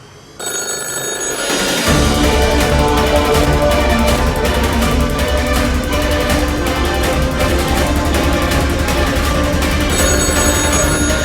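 A telephone rings loudly and continuously in a steady repeating pattern, filling the whole stretch with no voices.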